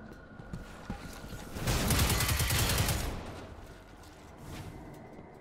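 Sustained burst of rapid gunfire from Destiny 2, lasting about a second and a half in the middle, loud against quieter game ambience, with softer scattered shots before and after.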